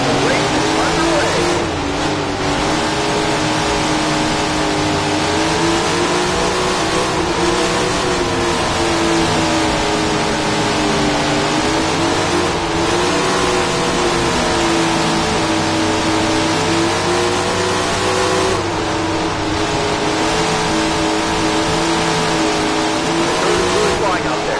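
Sprint car engines roar continuously in the PS4 game All Star Sprint Car Series, an A main at Roper Mountain, a dense pack of loud droning motors rising and falling together, with a commentator talking over them.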